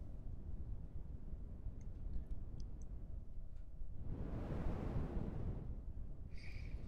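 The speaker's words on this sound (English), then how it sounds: "This was originally designed to do a sort of surf noise." A synthesizer surf-noise patch with very high cutoffs produces an ocean-like wash. A soft hiss swells into a louder, breaking-wave surge midway, then recedes, over a steady low rumble.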